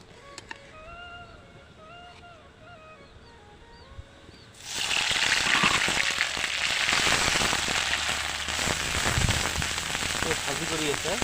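Onion and garlic hit hot mustard oil in a home kitchen, for a katla fish-head dish; after a quiet stretch with faint voice-like tones, a loud, dense sizzle bursts in halfway and crackles steadily to the end.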